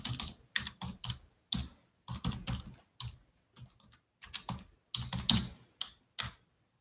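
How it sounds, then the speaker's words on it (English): Typing on a computer keyboard, close and fairly loud, in irregular bursts of quick clicking keystrokes separated by short pauses, with no talking. "I'm not very good at typing, guys."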